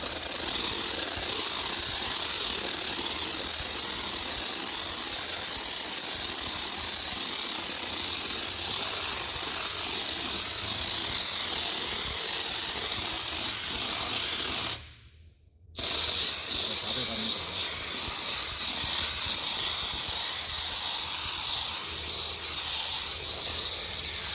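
A SOLVEX foam gun spraying polyurethane insulation foam, a steady close hiss that runs continuously, cuts out for about a second, then resumes.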